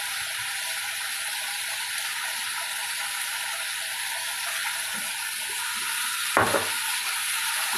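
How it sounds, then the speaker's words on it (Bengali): Spices frying in mustard oil in a pan give a steady, dense hiss that holds evenly throughout, broken by one brief louder clatter near the end. "এই মশলা কষার মধ্যে একটু সর্ষের তেল দিলে মশলাটার গন্ধটা ভালো বেরোয়।"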